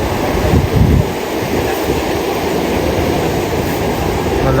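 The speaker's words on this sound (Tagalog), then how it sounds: "Malakas po ang alon." Strong sea waves roll and crash in a steady, heavy wash, mixed with buffeting wind noise on the microphone, loudest near the start and then holding a constant roar.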